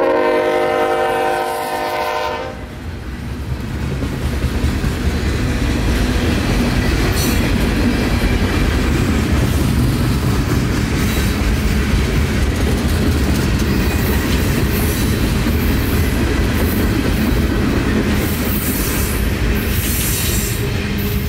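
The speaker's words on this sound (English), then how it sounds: "these guys have got an abnormally long train today, but they ain't wasting no time as they fly across Nellian Drive" Abnormally long freight train passing at speed, opening with a loud multi-tone horn blast, then a sustained heavy roar of wheels and cars with clattering and squeals, close and loud throughout.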